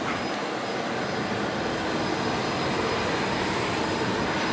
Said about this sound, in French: Le bruit qu'on entend, ce sont les jets d'aviation d'affaires du Bourget